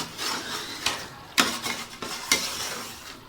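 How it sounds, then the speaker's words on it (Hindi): A spoon stirs chicken biryani masala in a pot, scraping and clinking in a few sharp strokes against a soft sizzle, close up with no voices. "हमने अच्छे से जो है वो चम्मच इसमें चला लेना है"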